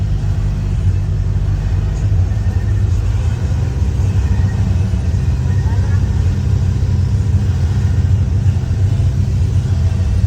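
Road traffic stuck in a long jam gives off a steady, close, low rumble of idling car engines that never breaks, with possible faint voices under it.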